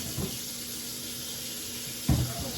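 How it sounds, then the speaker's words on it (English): Hands are washed under a running kitchen tap before cooking shrimp, a steady hiss of water flowing close by with a couple of brief splashes and thumps. "we're just gonna wash our hands"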